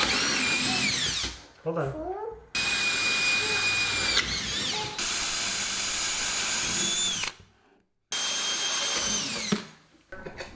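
Power drill driving into a wall-mounted bracket for a mudroom bench and coat rack, several loud whining bursts separated by short silences, with the pitch rising and dropping as the motor speeds up and slows, and a voice speaks briefly.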